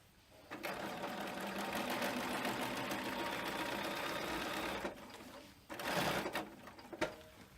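A sewing machine stitching a cycling frame bag, running in a steady continuous whir for about four seconds, then a short second burst of stitching after a pause.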